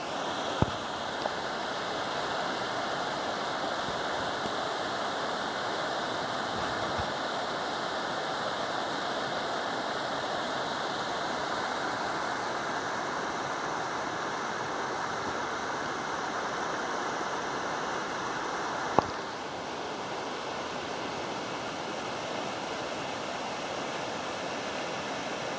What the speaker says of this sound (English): she'll love the sound of running water.